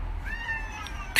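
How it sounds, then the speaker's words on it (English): A cat gives a single drawn-out meow, then a sharp brief noise follows at the end, with no talking. "So this cat's name is OK Google"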